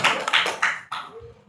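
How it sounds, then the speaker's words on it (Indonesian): Several bursts of hand clapping ring out from people at a public hearing between an alliance of honorary workers and the regional council in Kepulauan Meranti. The applause is brief and fairly close, and it thins out quickly. "Kita kasih aplaus dulu kawan-kawan."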